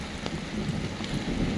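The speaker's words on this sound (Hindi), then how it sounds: "बाकी बारिश आ रही है" Rain falls steadily in a remote mountain village in Almora, Uttarakhand, a continuous close, even patter with no voices over it.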